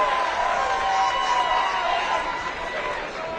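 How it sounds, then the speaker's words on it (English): Spectators at a women's U21 Six Nations rugby match between England and Ireland raise a broad crowd roar during a referee TMO check, with a commentator talking over it. "Crowd happy about that one."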